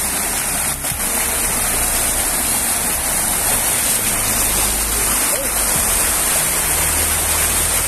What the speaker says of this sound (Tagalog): yung mga tubig malakas, saka yung falls, yung mga mini falls